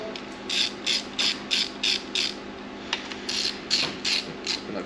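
A hand ratchet tightens head bolts on a high-horsepower engine block, giving a run of quick, close clicking bursts in a steady rhythm, a short pause, then more rapid strokes.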